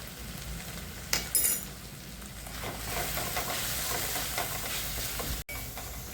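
Masala with red chilli powder, coriander powder and a little garam masala roasts in a pan for a pea and paneer kofta curry, a soft steady sizzle with gentle stirring scrapes and a couple of brief clinks.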